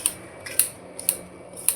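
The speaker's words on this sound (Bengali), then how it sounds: "ধনে পাতাগুলো কেটে নিই একটু" Coriander leaves being snipped in a home kitchen, giving about five short, crisp cutting clicks at irregular intervals over a quiet background.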